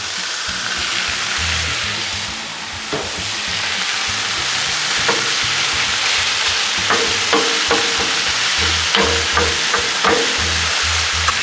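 Burger meat and chorizo sizzle steadily on a Blackstone griddle, with a constant frying hiss and scattered scraping and tapping of a spatula.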